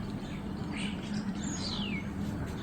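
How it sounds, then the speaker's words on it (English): Birds chirp faintly at sunset near a hotel balcony in Albufeira, Portugal, a few thin tweets and one descending whistle over a steady low background hum. "Hear the birds?"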